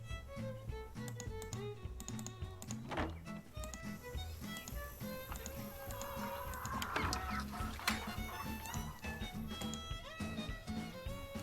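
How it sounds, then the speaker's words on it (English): Chickens cluck in the Shadow Ranch video game, their short repeated calls scattered over steady game music and ambient farm sounds, with a few soft clicks mixed in. "I definitely heard chickens."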